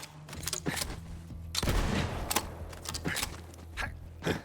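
Gunfire from a shotgun in the video game Borderlands 3, a dense burst of blasts around the middle followed by scattered sharper shots, with game ambience underneath and no talking.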